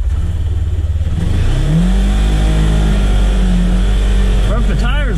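A Polaris Ranger XP1000 UTV engine is pushed to full throttle, a loud, close drone whose pitch climbs steadily as the revs build, surging higher in the last second.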